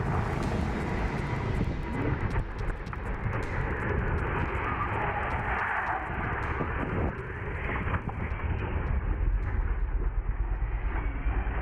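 A Russian helicopter in an accident roars with a loud, continuous rotor and engine rumble mixed with rushing wind noise, sustained without a break for over ten seconds and no voices.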